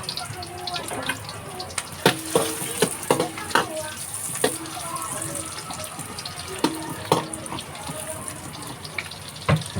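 Onion and garlic frying in hot oil in a pan for a sautéed cauliflower, snow pea and pechay dish with sardines, with sharp clatters of stirring and utensil hits over a steady sizzle at moderate volume.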